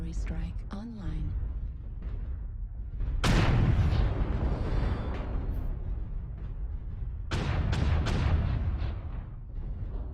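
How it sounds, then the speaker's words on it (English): Artillery strike explosions in a BattleTech mech video game, two heavy broadband booms several seconds apart, each with a long rumbling tail over continuous battle noise, with a voice speaking briefly at the start. "Artillery strike online."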